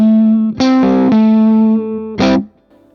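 A Paul Reed Smith semi-hollow body electric guitar plays lead tones with distortion: a sustained held note, then a strummed chord attack, another brief struck chord, and a fade to quiet.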